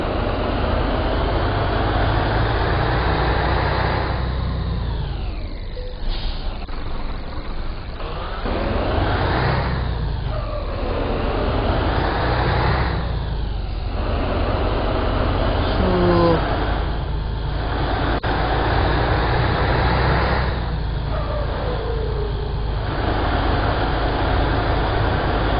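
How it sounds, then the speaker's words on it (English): A Scania 143M truck with a V8 engine in Euro Truck Simulator 2 drones loudly and continuously on the road, its engine pitch rising and falling through repeated gear changes, with no talking. "So this one has a V8 engine."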